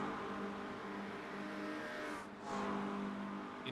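GT3 race cars battling at Le Mans in the iRacing sim, engines droning steadily with a brief dip and a car sweeping past midway, loud and continuous with no talk.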